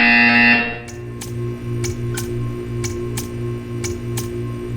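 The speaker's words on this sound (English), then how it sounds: "When you hear the buzzer, stare at the art." A steady electronic buzzer drones in a Portal 2 test chamber, followed by a series of regular, evenly spaced ticks over a constant low hum, with no voices.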